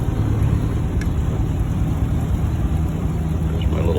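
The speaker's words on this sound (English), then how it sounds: "Shifting into first gear here." A 1949 MG YT car's engine drones steadily in first gear, a loud, constant low rumble from close by with little change in pitch and a faint click partway through.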